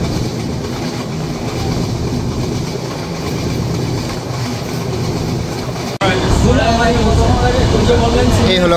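Rupashi Bangla Express, on its inaugural run to Benapole, rumbles steadily with a broad clattering roar heard from inside a carriage, growing louder and harsher after a sudden shift midway.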